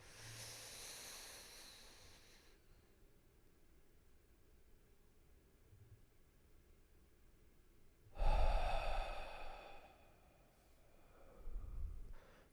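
Slow, deep breaths during a guided breathing exercise: a long drawn inhale, a held pause of near silence, then a strong, loud exhale and a softer breath after, all close to the microphone.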